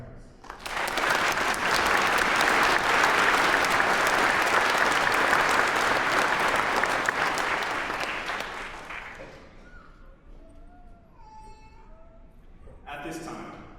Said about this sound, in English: Please join me in a round of applause for the drill sergeants.